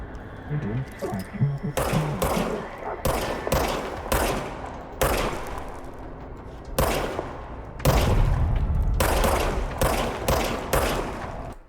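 Gunfire in the video game Control: a series of loud, separate bursts of shots over about twelve seconds, with quieter game ambience between them.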